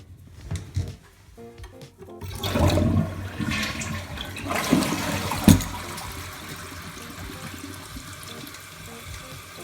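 Delta Flush IQ toilet flushing after a repair: a handle clunk, then a loud rushing gurgle of water draining from the bowl, easing into a softer trickle and refill hiss.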